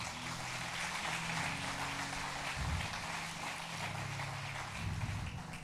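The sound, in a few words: congregation applauding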